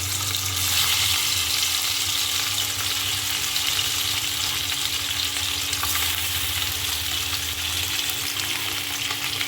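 Turmeric- and salt-coated hilsa fish fry in hot oil, a loud, steady crackling sizzle that runs unbroken throughout with a low background hum.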